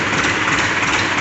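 A Massey Ferguson 245 DI tractor idles at a dealership in Meerut, a loud, close, steady engine drone heard alone for a brief moment.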